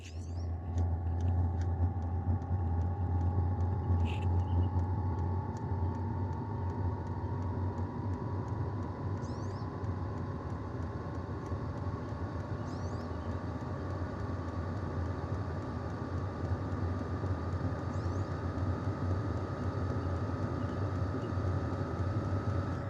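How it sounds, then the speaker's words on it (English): A continuous low rumble and whirring hum from a Sunster TB10 Pro diesel heater starting up, with a rising tone and faint periodic ticks, steady and unbroken throughout. "Now this is all the startup sound you're gonna get out of this Sunster."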